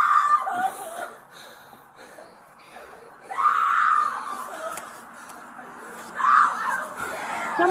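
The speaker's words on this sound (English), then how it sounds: "Somebody's screaming." A frightened woman screams in loud, wavering bursts that rise and fall, with peaks near the start, middle and end, against a busy background with some voices.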